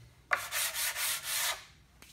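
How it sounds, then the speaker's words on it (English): Sandpaper rubs back and forth across wood in a few quick close strokes, a dry scratchy rasp, then stops. "Not a bad idea when you're sanding them down."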